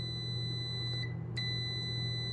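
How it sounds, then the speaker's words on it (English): A multimeter continuity test emits a steady, high-pitched electronic beep held continuously over a low background hum, with a couple of faint clicks. "And you hear that beep?"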